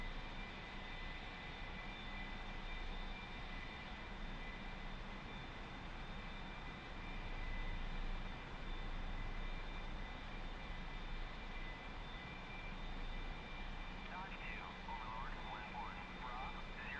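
A single turbine engine of an A-4 Skyhawk in the flight simulator DCS drones steadily and loudly throughout, a constant whine over a low rumble with no clear change in power.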